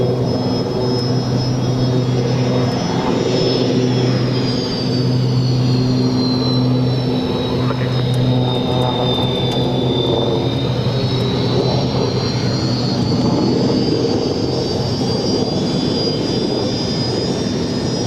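A jet airplane taxis towards the runway threshold with a loud, continuous engine whine and rumble, a high tone that slowly dips and rises again, and no voices.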